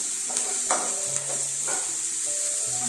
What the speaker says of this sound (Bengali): বেশ সুন্দর করে আমরা ভাজা ভাজা করছি